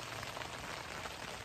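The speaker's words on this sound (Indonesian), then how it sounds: "Hujan pula kat luar." Rain falls steadily outside at a mountain campsite in Kundasang, heard from inside a tent as a soft, even wash of pattering drops with no voices.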